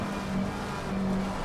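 A race car in Assetto Corsa Competizione at Watkins Glen, heard as a steady dense engine roar from the cockpit as another car runs alongside.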